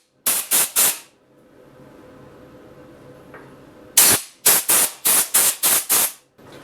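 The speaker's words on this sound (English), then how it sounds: "I'm going to blow the dust out of the screw heads, so hopefully they won't strip out." Compressed air blown from a nozzle to clear dust out of the screw heads on a Byrd Shelix carbide cutter head: three short loud hissing blasts, a quiet pause, then six more sharp bursts in quick succession, close up.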